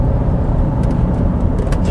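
Vauxhall Antara engine pulling while driving in traffic, a loud, close, steady low rumble heard from inside the car with faint high clicks and no talk.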